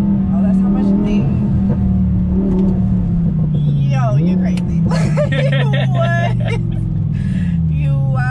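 An Audi R8 accelerates through slow traffic with a loud, steady engine drone, and the pitch climbs midway as it speeds up. Excited voices talk and exclaim over the engine.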